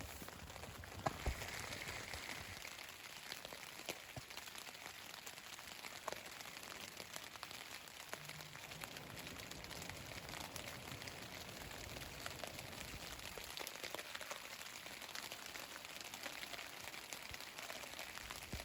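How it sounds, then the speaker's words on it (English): Steady rain falling on a backpacking tent at night beside an alpine lake, a continuous close patter of drops with occasional sharper taps, persisting evenly throughout with no voices. "listen to the rain"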